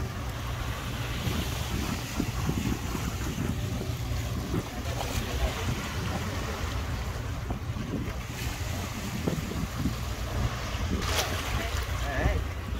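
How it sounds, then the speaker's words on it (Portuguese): Ship on the Itajaí-Açu river heard beside a riverside public market in Itajaí, a steady broad wash of water, engine and wind noise, continuous and fairly loud throughout. "Olha o navio aí, ó."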